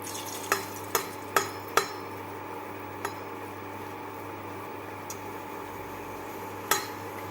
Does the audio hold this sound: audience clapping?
no